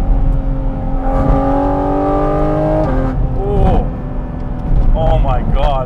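A Porsche GT4 RS race car accelerates hard through the gears, its engine note climbing and dropping between shifts, loud and close, while a person talks over it.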